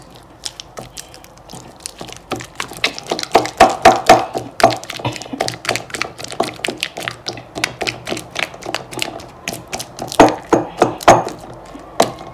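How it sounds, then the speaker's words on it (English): Cocoyams are pounded in a mortar for bitter leaf soup, giving repeated close, dull thuds with occasional clinks in an uneven, steady rhythm. "We go ahead and pound it in this."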